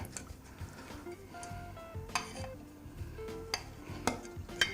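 Herbs and spices being mixed for a honey pork roast, with light scattered clinks and taps of a utensil against a bowl, irregular and fairly close, with no talking.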